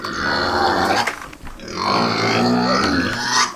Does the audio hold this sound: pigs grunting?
yes